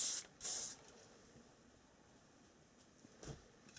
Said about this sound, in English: So now I'm going to take some hairspray, just literally waft a little bit over there.